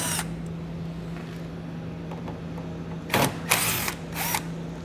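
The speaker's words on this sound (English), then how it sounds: "We're gonna need to remove those using a T15 Torx bit." A power drill fitted with a T15 Torx bit backs screws out of a 2020 GMC Terrain during trailer hitch installation, giving three short, close whirring bursts over a steady low hum.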